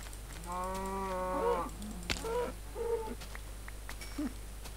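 Minecraft cows mooing, a long tonal low followed by a few shorter moos, fairly clear against a steady background hum with scattered faint clicks.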